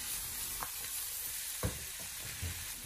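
Garlic leaves and twice-cooked pork sizzle steadily in a wok over high heat, with a few quick stirring scrapes and tosses cutting through the quiet frying hiss.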